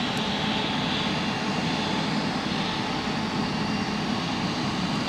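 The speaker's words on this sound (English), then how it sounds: "if this conflicts with this A350 taxiing out" An Airbus A350 taxiing out at Zurich Airport gives off a steady, even jet-engine roar at moderate distance, unbroken for the whole stretch.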